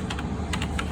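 Quick keystrokes tapped on a French computer keyboard, several close, crisp clicks in an uneven rhythm, heard alone against a low steady background hum.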